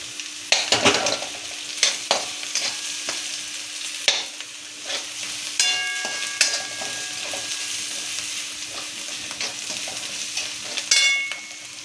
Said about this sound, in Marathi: हे बघा थोडंसं छान परतून झाले आपलं गाजर